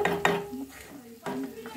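Masala stirred and cooking in a pan, close scraping strokes of a spoon against metal over a low sizzle, with brief clinks of cookware.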